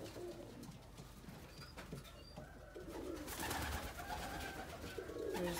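Pigeons, including black birds and checkers, coo in a loft, low throaty calls rising and falling amid fluttering, scratching and general bird activity.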